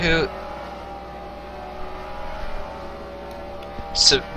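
Race cars at New Hampshire in a racing video game, a steady engine drone of several cars running in a pack, with a brief louder burst near the end under someone talking.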